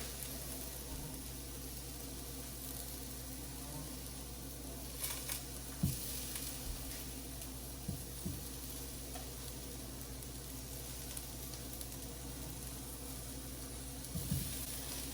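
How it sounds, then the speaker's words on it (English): Halved small potatoes fry in a hot pan with a steady, soft, hissing sizzle, broken by occasional faint taps and stirring knocks, with no talk over it. "Fry those up."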